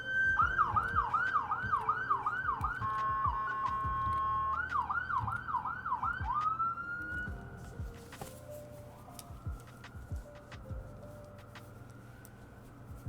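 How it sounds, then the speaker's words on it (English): Emergency vehicle sirens wail loudly in a steady rising-and-falling cycle, then shift to a sustained tone before fading into a quieter, more distant siren beneath traffic rumble. "Emergency noises."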